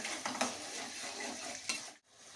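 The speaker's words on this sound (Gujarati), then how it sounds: "ડુંગળીની એને ધીમે ઓલે 2 મિનિટ સાતરી લેશું" Onion gravy for sev usal sautéing over low heat in a pan, a soft steady sizzle with a few stirring scrapes, ending in a brief drop to near silence.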